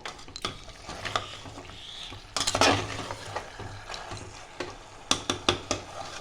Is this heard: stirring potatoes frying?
yes